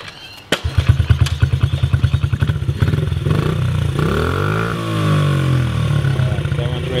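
A small Honda CRF50 motorbike engine kicks into life with a sharp thump, then settles into a close, rapid putt-putt idle that smooths out and revs slightly, while people talk nearby.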